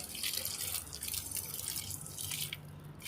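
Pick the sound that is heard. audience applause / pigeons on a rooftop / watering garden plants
watering garden plants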